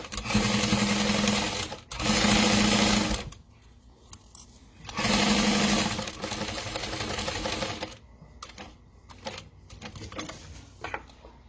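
A sewing machine runs in three bursts while stitching a Boon wallet, with back-stitching at the seams. The whirring runs come in short and steady runs separated by quiet pauses filled with light handling noise.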